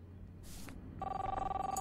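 A telephone rings in the video game Life is Strange, with a steady electronic trill pulsing in rapid repeated bursts after a brief whoosh, fairly close and clear.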